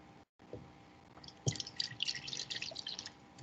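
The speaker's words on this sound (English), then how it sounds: "pour the remaining water from the large triangular container into the large cylinder" Water poured from a large triangular container into a large graduated cylinder, with a soft trickling splash and faint dripping, quiet and close in a classroom lab.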